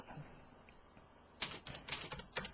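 Rapid keystrokes on a computer keyboard during a SketchUp modelling session, a quiet stretch and then a burst of clustered clicks ending in firmer taps, close and fairly soft with no talk.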